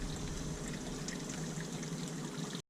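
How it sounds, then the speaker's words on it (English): Hot spring water pours from porous tufa rock in a downtown hot springs area, a steady close trickle and splash that runs evenly for nearly three seconds and then stops abruptly, with no voices. "here we have some of the actual hot spring water that's coming out of the rock"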